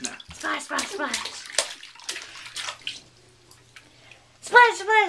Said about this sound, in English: Show me how you splash.